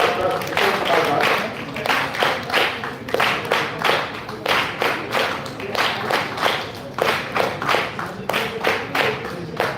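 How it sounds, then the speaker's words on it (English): Audience applause for a conference's guest of honor in a school of management hall: steady, dense clapping from a sizeable crowd throughout, with rhythmic peaks of nearby hand claps and a faint voice under it. "Have a huge round of applause for our guest of honor, Professor Dr. Kishore Kumar Das."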